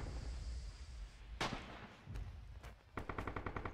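Gunfire in a trench-warfare video game with a sniper active: a sharp crack near the middle, then a rapid series of distant shots, over steady background battle noise.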